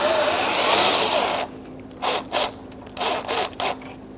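A power drill backs out grille screws on a 1988-1999 GMC K1500 pickup, first a steady close whirring run, then several short on-off bursts of the motor.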